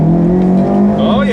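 Supercharged Honda CR-Z hybrid with a factory-tuned engine accelerating hard from inside the cabin, a loud steady engine drone rising in pitch, with talk over it.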